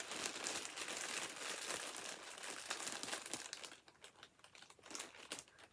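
A small plastic baggie of yarn crinkles close up in steady, bright rustling bursts that stay fairly soft and thin out toward the end, with no talking.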